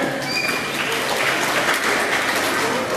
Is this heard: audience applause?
yes